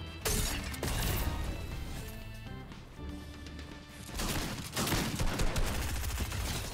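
Rapid bursts of gunfire in the Fortnite video game, loud and continuous across the clip with sharp repeated cracks over game music and effects, no talking.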